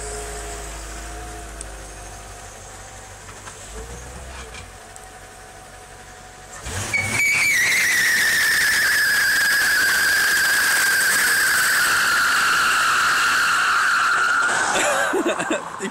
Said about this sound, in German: Und jetzt auf die roten Platten und dann Burnout